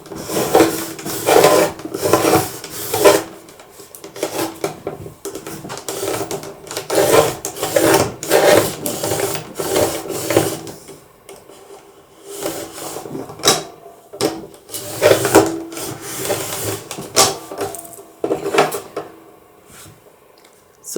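A card being trimmed with a paper trimmer: repeated scraping, sliding strokes come in uneven bursts with short pauses between, close and fairly loud, without any talking.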